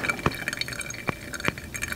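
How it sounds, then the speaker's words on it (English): Hot water poured from a kettle over pour-over coffee, a steady trickling fill with a faint glassy ring and a few sharper drips or clinks, close and moderately quiet, no voices. "Pro tip, if you're ever on the phone and you're making a pour over, be careful because that sound,"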